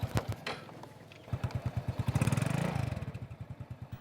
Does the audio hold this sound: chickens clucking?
no